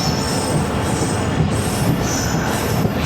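Jaffar Express passenger train of Pakistan Railways rolling along the rails, a loud steady rumble with high wheel squeal and faint clatter throughout, heard from close by with no talking.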